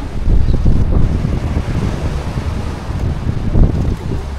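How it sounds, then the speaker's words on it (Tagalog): Strong sea waves breaking on a windy beach, a continuous loud roar of surf with heavy wind buffeting the microphone throughout, and no voices. "Malakas ngayon ang alon natin."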